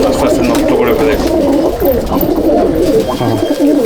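Pigeons in a loft of Andhra and Malwai birds coo in loud, overlapping rolling calls close by, and someone talks over them.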